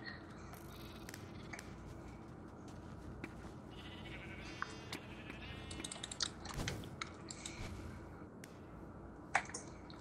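Sheep bleating in a video game, several short bleats scattered across a busy game soundscape with clicks and background noise, no talk.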